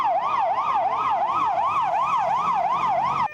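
An ambulance siren wails steadily in a fast, regular up-and-down cycle at a medics' picket protest, loud and continuous with no talk over it.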